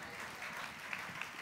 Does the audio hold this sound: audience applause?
yes